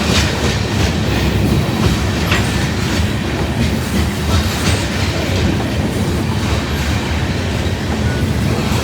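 A mixed manifest freight train rolls slowly past on the tracks, a dense, steady rumble with rhythmic clickety-clack of wheels and faint squeals, loud and close throughout, no talk.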